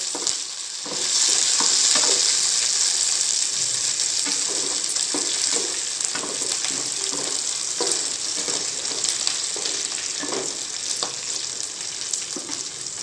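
Curry leaves sizzling steadily as they fry in hot oil in a pan, a loud continuous crackle with brief pops and stirring scrapes throughout.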